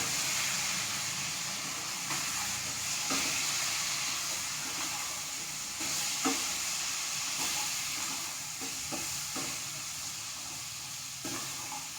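Butternut squash pieces sizzle and hiss in a pan as they are stirred, a soft steady frying noise broken by faint scrapes and clinks. No one speaks.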